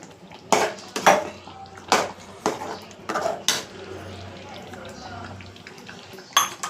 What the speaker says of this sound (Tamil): இதை நல்லா மிக்ஸ் பண்ணி விடுவோம்.